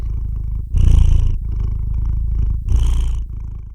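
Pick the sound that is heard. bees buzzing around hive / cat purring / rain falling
cat purring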